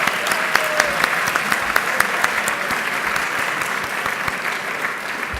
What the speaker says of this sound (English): So give him a round of applause for that